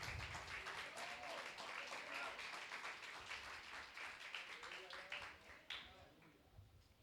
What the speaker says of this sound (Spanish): apláudale si le va a aplaudir